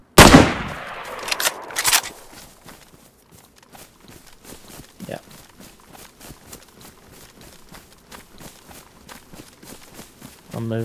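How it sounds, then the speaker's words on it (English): Sharp gunfire bursts in the survival video game DayZ, a loud volley at the start and another around two seconds, followed by quieter scattered shots and rustling movement noises. "I'm under fire. Yeah, I'm taking fire."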